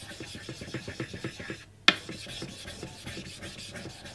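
Rhythmic wet rubbing and rasping of a blade worked back and forth over a Japanese natural sharpening stone, raising a mud slurry, steady close strokes with one sharp knock partway through.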